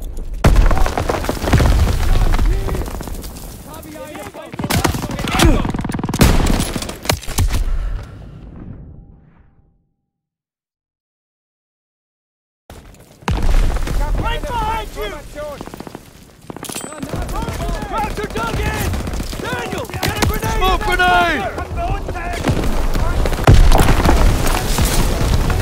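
A Call of Duty: WWII firefight with a grenade explosion and bursts of gunfire: loud booms and rapid shots, a brief dead silence, then more heavy gunfire and blasts, with voices shouting throughout.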